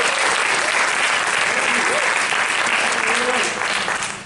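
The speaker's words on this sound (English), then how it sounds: "Give him a big round of applause." A live audience breaks into loud, sustained applause, a dense wash of clapping that holds steady and begins to thin out near the end.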